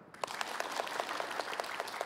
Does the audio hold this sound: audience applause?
yes